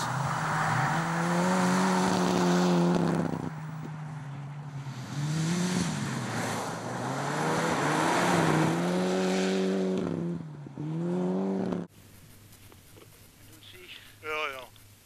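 A rally car drives and slides across a frozen lake, its engine droning and rising and falling in pitch as it revs. Someone talks over it, and the engine drops away near the end.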